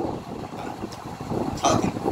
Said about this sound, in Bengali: ফ্যান চলছে, আমি এই ফার্স্ট টাইম ফ্যানের হাওয়া খাচ্ছি